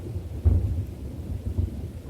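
Radio-play thunder and rain effect: a low rumbling roll of thunder with a heavy boom near the half-second mark and another swell later, over a steady wash of rain, with no voices.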